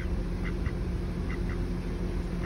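Ducks at a lake give a few soft, scattered quacks, two pairs in quick succession, set against a steady outdoor hiss.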